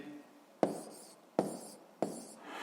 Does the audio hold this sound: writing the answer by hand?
yes